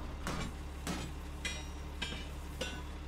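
A video game character hammering to repair something, five sharp metallic strikes at an even, roughly half-second-apart rhythm, moderately faint over a low steady hum.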